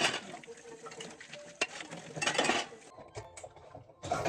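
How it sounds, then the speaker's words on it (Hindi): Dishes being washed in a kitchen sink: clinking steel pots, plates and cutlery, running water and scrubbing, with a sharp metallic knock partway through, irregular and close. "तो यहाँ पे चलिए फटाफट से जो है अपने बर्तन धोने का काम कर लेती हूँ"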